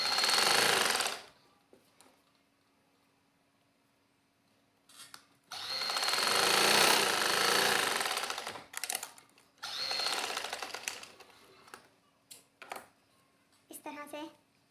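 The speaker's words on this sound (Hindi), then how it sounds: "मशीन की मदद से इसके ऊपर हम सिलाई लगा देंगे" A sewing machine runs in short loud bursts while stitching elastic onto a baby girl's frock, with quiet pauses between runs and a brief faint voice near the end.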